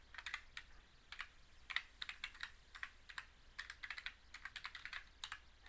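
Cheat code typed on a computer keyboard for a PC game, quiet irregular bursts of close key clicks in quick clusters with brief pauses.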